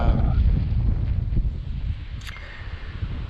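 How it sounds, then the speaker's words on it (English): Gusty wind buffets the microphone with low rumbling bursts, strongest at the start and easing slightly, outdoors near a John Deere 1585 front mount mower, with no talk. "It's windy today"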